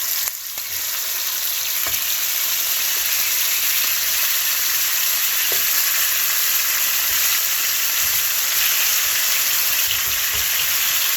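Chicken thighs laid into hot olive oil, a loud, steady, close sizzle that runs without a break, with a few faint clinks and no talk.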